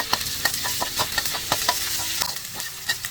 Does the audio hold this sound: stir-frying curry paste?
yes